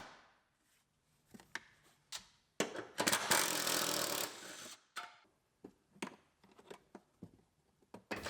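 Bolts being worked loose inside a 2018 GMC Sierra Denali truck's interior console: sharp metallic clicks and ratchet-like ticks in irregular bursts, with a dense, louder stretch of rattling clatter partway through, close and without talk.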